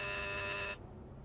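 A single harsh electric buzz sounds for under a second, then cuts off abruptly, leaving a faint room hush.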